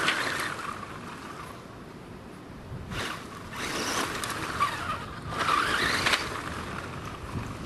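A Jada Batmobile RC car drives about, its small electric motor whining and tires scuffing in bursts that rise and fade as it passes, fairly close and without talk.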